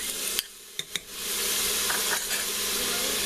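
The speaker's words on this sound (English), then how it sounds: "So I'm going to add just a couple of cloves of minced garlic." Onions and minced garlic sizzle in a pressure cooker pot while making beef dip, a steady broadband hiss rising after a few sharp clinks and taps of a utensil against the pan, no talking.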